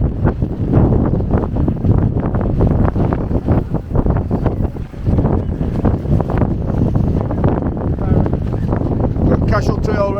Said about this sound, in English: it's blowing a hooler here